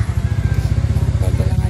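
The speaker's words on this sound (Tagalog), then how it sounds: "jowa ko na pinapainit yung motor bago paandarin" Motorcycle engine idling while warming up outdoors on a cold, drizzly morning before a ride, a close, loud, fast even putter that stays steady throughout.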